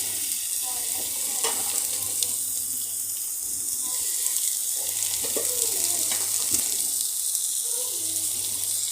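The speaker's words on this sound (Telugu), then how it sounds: "లివర్ ఫ్రైని అందులోకి ట్రాన్స్ఫర్ చేసుకుందాం. కొంచెం కొంచెం వేసుకుని కలుపుకుందాం." Marinated chicken liver with masala fries in a pan, giving a constant bright sizzle with repeated scraping and clatter from stirring, close and fairly loud.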